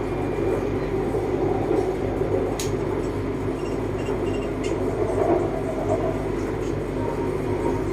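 Bangkok BTS Green Line skytrain carriage interior on the way toward Samrong, a steady low rumble and hum of the moving train with faint clicks, continuous and fairly loud throughout.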